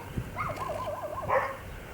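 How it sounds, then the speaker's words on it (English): Dogs on a country walk in rural France give a short run of yelping, wavering barks and whines at moderate distance, one brief burst early and a longer wavering call later, with light outdoor background. "There are stupid dogs in front of us."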